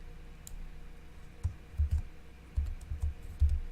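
Keyboard keys clicking as a short word is typed into a Photoshop text tool, several quiet taps in small bursts, close and alone with no talk.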